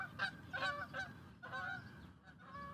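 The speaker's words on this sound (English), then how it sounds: "thanks geese" Geese honk repeatedly in a series of loud, nasal calls, a few separate bursts spread across a couple of seconds with light background noise.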